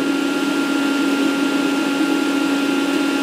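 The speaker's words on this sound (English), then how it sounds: "let me demonstrate the uh, machine running" A Bridgeport Torq Cut 22 CNC milling machine runs with a steady, loud mechanical whir and a constant hum underneath, close by and unchanging.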